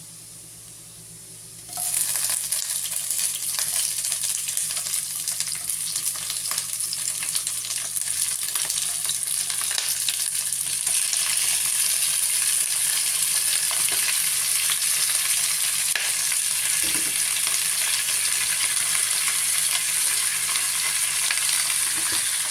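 Shrimp hit a hot pan and instantly break into a loud, steady frying sizzle that continues unbroken, with occasional faint stirring clinks and no speech.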